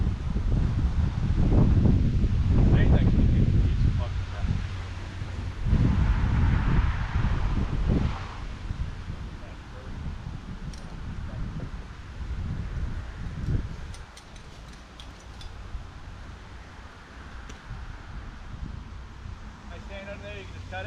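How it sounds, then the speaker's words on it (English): Gusty wind blows outdoors across an overgrown old house lot being cleared, a steady low rumble of wind buffeting the microphone, strongest in the first eight seconds, with people talking over it. "It's kind of windy now too."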